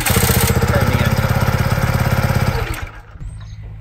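A BlackHawk Intruder paramotor engine running after an ECU reboot, a loud, close, rapid pulsing drone that stops abruptly near the end, leaving a quieter low rumble.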